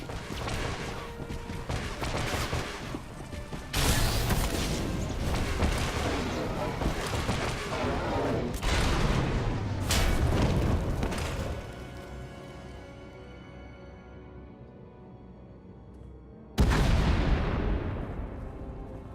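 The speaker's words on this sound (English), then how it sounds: "We heard explosions." Repeated booming blasts and gunfire crackle through a dense, loud battle scene in the video game Star Wars: The Old Republic, with sharp bursts at intervals and a fading tail before one last heavy impact.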